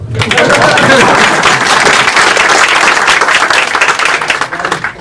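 Loud, close applause from an audience at the opening of a campaign headquarters, a thick sustained burst of clapping that holds steady before thinning out near the end.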